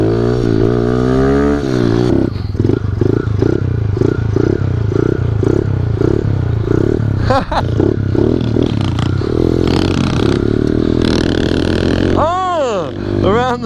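A Honda Elite scooter fitted with a Polini 72cc kit, running rough and struggling to stay on, sputters and revs with rising and falling engine pitch, clattering loudly up close.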